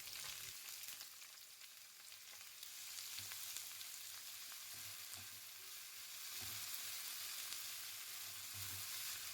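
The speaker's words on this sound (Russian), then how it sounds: "На этом же масле будем жарить лук" Onions fry in oil left over from cooking meat, giving a steady, dense sizzle that runs the whole time with faint stirring, and no voices.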